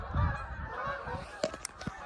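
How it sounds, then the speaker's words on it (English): Geese honking as they fly overhead during a snowy outdoor scene, with a few short, fairly distant calls and a low rumble early on. "There are geese flying overhead right now."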